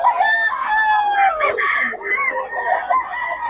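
A solid black chicken crows loudly and close, one drawn-out call with a brief flutter of other sounds mid-way and a faint voice nearby.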